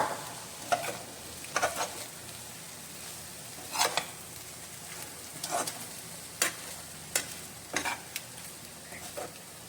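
A spoon or spatula scrapes and clacks in a pan as cooked rice is stirred into a sizzling poha mixture, with irregular scraping strokes over a soft continuous frying hiss, no voices.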